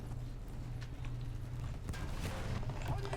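A cavalry horse gallops in the video game Battlefield 1, its hooves giving a steady rapid clip-clop throughout under a constant low rumble of battlefield ambience, with no speech.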